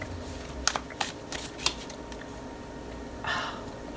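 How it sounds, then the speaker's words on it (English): A deck of tarot cards being split and shuffled, a few crisp riffling clicks and snaps early on and a brief softer riffle later, close and quiet over a faint steady background hum. "Split it and then shuffle it."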